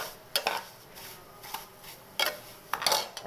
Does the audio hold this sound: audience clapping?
no